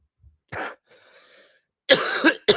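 A person coughs several times, a short cough followed by a pause, then two harsher coughs close to the microphone.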